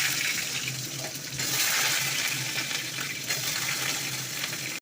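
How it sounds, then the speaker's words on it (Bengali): Potatoes fry in hot oil with whole garam masala spices, a steady close sizzle and bubbling that rises slightly in the middle and stops abruptly at the end, with no speech. "আলুটা ভাজা হচ্ছে"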